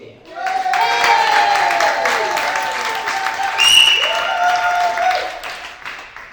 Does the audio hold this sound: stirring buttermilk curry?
no